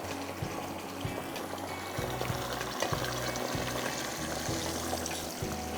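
Water poured into a cooking pan over ginger garlic paste, a steady close splashing trickle with faint kitchen clatter and no talk.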